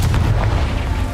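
A Confringo fire spell from the Hogwarts Legacy video game erupts in a loud, continuous booming blast with a rumbling low roar sustained for about a second, with no speech.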